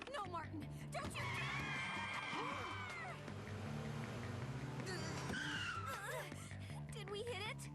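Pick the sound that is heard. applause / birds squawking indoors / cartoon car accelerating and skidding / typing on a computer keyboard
cartoon car accelerating and skidding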